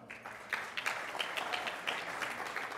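An audience at a chair's dinner applauding, moderately faint from the room, with a few sharper individual claps standing out over the steady patter.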